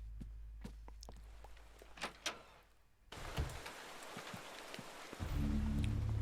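Rain falling in the video game Eternal Darkness, starting after a few sharp knocks and steps as a steady, moderately loud wash of drops, thickening near the end.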